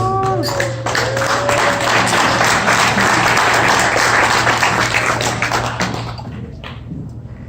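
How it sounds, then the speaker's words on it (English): Guests at a wedding reception applaud a toast by the groom's mother, a dense and steady round of clapping from a large crowd that fills the room, then tapers off near the end. "Big round of applause."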